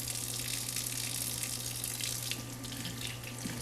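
Tap water runs steadily over eggs being peeled under the stream, a continuous close splashing hiss with small handling sounds mixed in.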